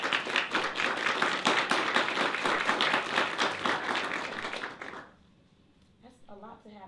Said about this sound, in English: I just want to give our advisors a hand clap for that.